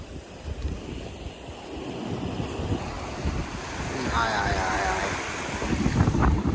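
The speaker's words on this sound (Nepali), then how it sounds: "टक्क यसरी पानी चलिन्छ क्या यहाँ चाहिँ" Sea waves wash and surge in strong wind along the coast at Albufeira, a continuous broad rush with wind buffeting the microphone and swelling louder toward the end.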